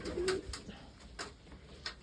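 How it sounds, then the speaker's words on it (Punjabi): Pigeons coo softly inside their coop, a faint low call under quiet background rustle, brief and distant-sounding. "ਕਬੂਤਰ ਸਾਰੇ ਸੈੱਟ ਨੇ"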